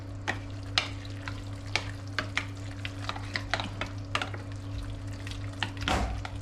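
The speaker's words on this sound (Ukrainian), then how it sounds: "Ретельно, ретельно це все перемішується." Ground black pepper and salt being stirred into a Greek dish in a pan, with a spoon clicking and scraping in irregular strokes over a soft, steady sizzle and low background hum.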